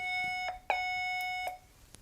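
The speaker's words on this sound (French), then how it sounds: "Et grâce à ma résistance variable, j'arrive à modifier la tonalité de l'alarme." A steady electronic alarm tone from an NE555 circuit and loudspeaker rings close and clear, interrupted by a couple of small clicks, then cuts off abruptly after about a second and a half.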